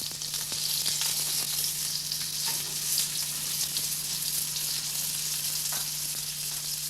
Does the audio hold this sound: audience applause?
no